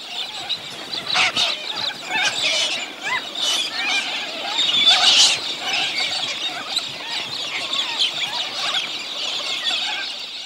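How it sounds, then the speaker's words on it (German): A dense flock of galahs, pink cockatoos, calls at a waterhole: continuous overlapping harsh screeches and squawks, loud and steady throughout with a few sharper peaks, no voices. "Wichtig für die geselligen rosa Kakadus."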